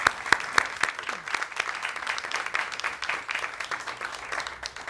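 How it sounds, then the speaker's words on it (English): A room full of people at a NASA event applauds the Voyager team, whose Voyager 1 probe has entered interstellar space, with sustained dense clapping of moderate loudness throughout and no talking over it. "let's give them a round of applause."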